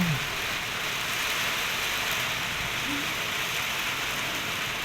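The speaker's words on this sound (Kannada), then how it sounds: "ಈ ಮಳೆ ಬೀಳ್ತಾಯಿತ್ತಲ್ವ" First rain of the year falling steadily on a village, a dense, even hiss of drops on surfaces, close and continuous throughout, with no talking.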